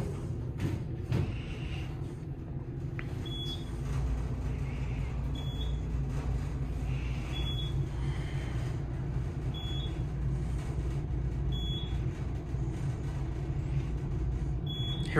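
A 1999 Dover traction elevator gives short, faint high beeps about every two seconds over a steady low machine hum.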